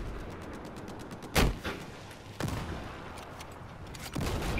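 Gunfire in Battlefield 4 multiplayer: a couple of sharp, fairly loud shots stand out over steady low battlefield rumble, with faint rapid firing in the background.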